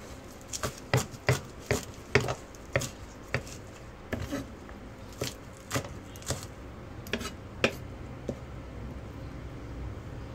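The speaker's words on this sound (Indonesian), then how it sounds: "siapkan juga dua batang daun seledri habis itu kita rajang sampai halus" A knife chops two celery stalks finely on a board for a home herbal remedy, giving about twenty crisp, evenly spaced strikes close by that slow slightly toward the end, over faint background noise.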